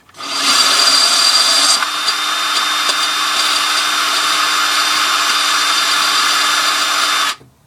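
A power drill cutting through glass whines loudly and steadily for several seconds, a high grinding buzz that starts abruptly and cuts off at the end.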